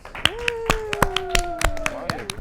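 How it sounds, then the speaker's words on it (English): A group at a youth camp claps after a trivia game ends, sharp hand claps scattered irregularly across the moment, mixed with voices and a sustained sung or cheering tone underneath. "Everyone claps."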